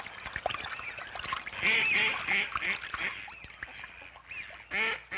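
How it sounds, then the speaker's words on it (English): Several mallard ducks on a duckweed-covered pond give loud, close, raspy quacks and honking calls in quick overlapping bursts, with hardly a pause between them. "These mallard ducks are feeding on duckweeds."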